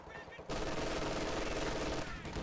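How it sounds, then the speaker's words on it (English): An MG42 machine gun fires in the strategy game Company of Heroes 2, a dense, loud burst of rapid rounds lasting about a second and a half against quieter battle noise. "MG42 catching the rear echelon squad as the pyos push forward."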